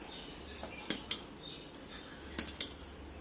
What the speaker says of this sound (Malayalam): ഇനി ഇതെല്ലാം കൂടെ നല്ലതുപോലെ ഒന്ന് മിക്സ് ചെയ്തെടുക്കാം.